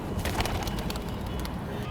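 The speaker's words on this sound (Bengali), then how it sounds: "চিলা কবুতর চিলা বলা হয় কারণ এটা দেখতে অনেকটা হচ্ছে চিল পাখির মতো তো ভাই এটাও আমি উড়িয়ে দিচ্ছি" A chila pigeon, kept in a cage on a farm, coos softly beside a steady low background rumble, with faint flutters and no talk.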